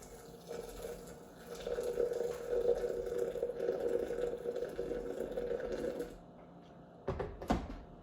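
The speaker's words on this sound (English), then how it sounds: "And then I'm going to add 75 grams of water." Water pours steadily onto ground coffee in a French press for about five seconds, a close, even trickle that then stops, followed by a couple of brief handling clatters.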